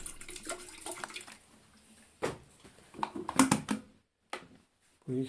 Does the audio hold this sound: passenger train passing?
no